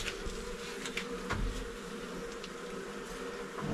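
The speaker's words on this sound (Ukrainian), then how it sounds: "бджоли трошки є, трутня є" Many honey bees buzz together in an open hive in a dense, continuous drone, close and steady, with occasional individual bees whizzing past.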